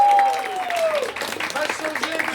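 An audience claps at a live performance. The applause starts as a falling musical tone fades and builds into a loose, crowd-wide patter. A voice speaks over it early on.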